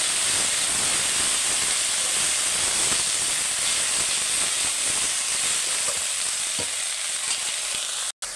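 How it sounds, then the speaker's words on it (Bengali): Spinach stirred in a hot pan while cooking a fish-head and spinach curry: a steady, close sizzling hiss runs unbroken for about eight seconds before cutting off abruptly. "সবজিটা ঢেলে নিয়ে এবার আমি পালং শাকটা ভালো করে নেড়ে নেবো।"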